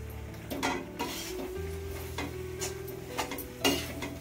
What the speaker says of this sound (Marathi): आता हे ढवळून घेते